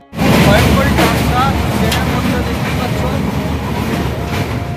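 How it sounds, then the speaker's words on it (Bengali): A moving train rumbles along the tracks near Puri, a loud continuous roar of rolling wheels and carriage noise heard from on board, with people talking faintly underneath. "আমরা ট্রেনটাকে ভ্রমণ করছি"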